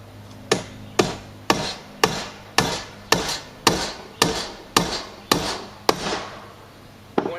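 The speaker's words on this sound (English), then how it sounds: "so we put 1 nail here because we have to pull that in" A hammer drives a nail into wood with about a dozen evenly spaced, sharp, close strikes, each ringing briefly before the next, with no talk.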